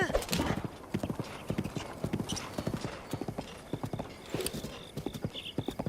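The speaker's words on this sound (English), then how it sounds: "You're not a very strong horse, are you?" Hooves of a horse clip-clopping steadily in a Zelda game on Nintendo Switch 2, an even trotting rhythm near and clear, with a whinny and a voice talking over it.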